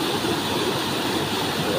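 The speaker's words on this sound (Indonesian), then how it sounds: "menikmati suara sungai yang merdu." Steady broadband rush of a river flowing beneath the historic Jembatan Merah bridge, its clear water running continuously at close range with no talk over it.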